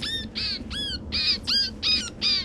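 Repeated nasal calls of a White-breasted Nuthatch, a blue-gray year-round resident songbird at a nature center, seven short harsh notes in a steady rhythm, close and clear over quiet background.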